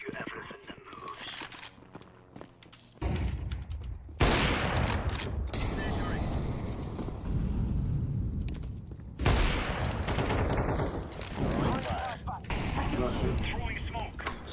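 Video game gunfire: heavy bursts of shots and booming blasts come in dense waves with short pauses between them, loud and close, with a voice speaking over the fighting.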